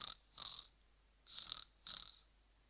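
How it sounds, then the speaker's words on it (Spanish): Three breathy snoring sounds spaced apart, soft and close with quiet pauses in between. "Ronquido."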